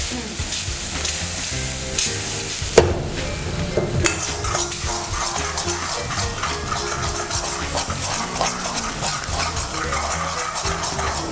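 A crispy vegetable mixture seasoned with pepper powder fries loudly in a pan, a steady close sizzle with frequent scraping and clatter of a spoon stirring against the metal throughout.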